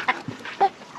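A chicken of about eight pounds clucks while being weighed in a bucket on a scale, giving a few close, loud, short clucks and calls in quick succession.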